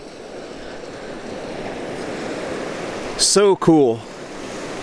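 Waves breaking and washing in on Gold Beach along the rough English Channel make a steady broadband surf roar with wind, while a person speaks briefly near the end.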